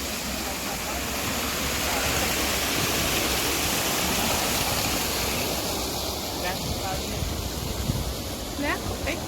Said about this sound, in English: Can't hear because of water.